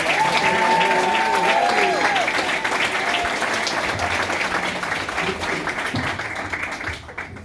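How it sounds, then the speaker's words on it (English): A large audience at a school event claps in sustained applause, loud and dense at first and then slowly thinning, with voices calling and talking underneath before it fades out. "Please give them a round of applause for being here today."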